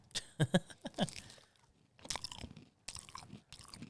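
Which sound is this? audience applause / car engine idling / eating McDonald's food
eating McDonald's food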